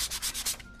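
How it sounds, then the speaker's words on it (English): Close, steady sanding of wooden Halloween candlesticks to prep them for paint, a rhythmic series of about four or five rasping strokes that fade out at the end, with no voices. "So we're going to sand it down a little just so that the paint adheres better."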